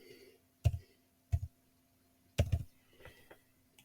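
Three sharp, separate taps from typing a phone number on a keypad, spaced about a second apart, close and clear against near silence, with a few softer clicks trailing at the end.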